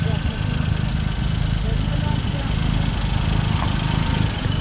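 Suzuki Hustler with a 660cc engine and manual 4x4 transmission idling nearby, a steady low rumbling drone that carries on evenly throughout.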